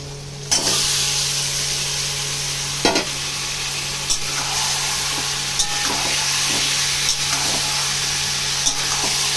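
Loud steady sizzling of marinated chicken frying in a pan, with periodic sharp scrapes and clacks of a spatula stirring, no talking.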